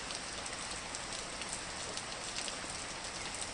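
Rain starting to fall outdoors at night, a dense, even patter of drops on surfaces, faint and steady throughout with no voices.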